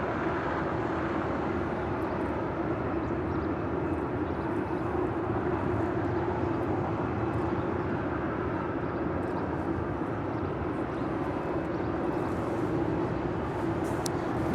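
A United Airlines Boeing 737-800 departing LAX for Denver produces a steady, distant, low jet rumble that holds evenly throughout, with no voices.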